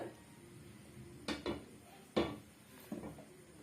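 A ladle stirs a sweet mixture in a pot, giving a few scattered scraping knocks and clanks, two or three distinct strikes over a quiet background.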